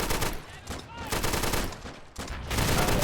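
Gunfire in the Army Men: Plastic Wars video game: dense, overlapping bursts of shots, loud and close, rolling almost without break and easing for a moment near the end.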